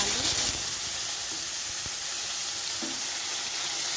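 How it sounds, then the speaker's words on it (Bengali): Potato pieces fry in hot oil with a pinch of turmeric in a pan, giving a steady, loud sizzling hiss with a few soft stirring knocks and no talking. "আলুগুলোকে একটু ভালো করে ভেজে নেব।"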